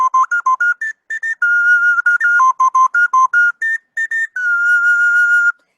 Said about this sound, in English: This instrument is an ocarina.